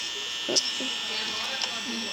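A desk fan in a Five Nights at Freddy's night-shift game drones in a steady electric buzz throughout, with faint clicks and people talking over it.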